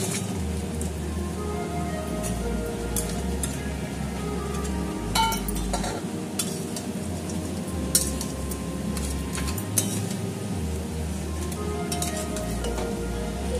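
Crabs tipped into fried onions in a pan and stirred, a steady close sizzle with scattered metallic scrapes and clinks of the spoon against the pan, no talk.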